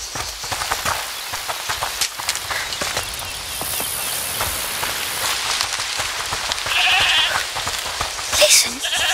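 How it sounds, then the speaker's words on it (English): Bleating of a goat in the video game A Plague Tale: Requiem over a steady rain-like hiss, the calls fairly faint within the constant wash of noise. "Listen, is that the goat he talked about?"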